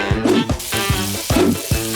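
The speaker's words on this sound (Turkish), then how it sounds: "Ve geriye kalan tek şey hepsini kızartmak." A ham and cheese sandwich fries in a pan with a steady close sizzle, broken by regular clacking knocks as it is stirred or pressed.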